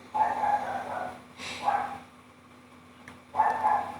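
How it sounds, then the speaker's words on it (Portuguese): A dog barks in short bursts with quiet pauses between them, moderately close over a low steady hum. "Sai daqui, seu cachorro."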